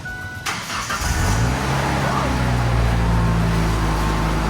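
A Ford Ranger engine cranks and catches just after its power steering pump repair, then settles into a steady, loud idle close by, with a brief voice near the start.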